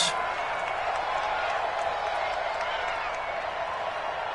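A stadium crowd in an American football video game between the Houston Texans and the Tennessee Titans keeps up a constant broadband roar of cheering and applause, loud and unbroken throughout, with no words audible.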